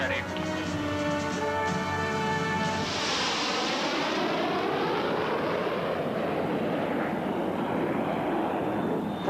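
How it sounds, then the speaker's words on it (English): A chase aircraft's jet engine roars up on takeoff, a steady loud rush that swells and sweeps in pitch around the three-second mark before settling into a broad roar. Radio-style voices speak over it. "Chase 2, tower, cleared for takeoff when ready."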